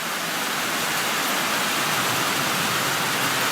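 Heavy rain pours down during a big storm, a dense, loud, unbroken roar of falling water with no voices.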